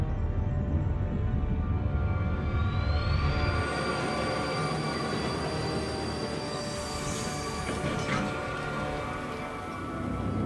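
A train braking in a video game, a dense, loud rumble and grinding hiss with a rising squeal that settles into a steady whine, continuing for several seconds without speech.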